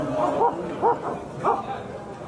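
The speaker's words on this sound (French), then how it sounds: "Ils aboient, hein, ils aboient." Dogs barking outdoors, three short yipping barks spaced about half a second apart, moderately near, over a low background hum.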